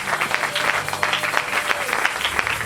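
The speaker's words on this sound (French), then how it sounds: "Est-ce qu'on peut acclamer pour Jésus?" A church congregation applauds at a Sunday worship service, with dense, steady clapping filling the space throughout and no clear speech on top.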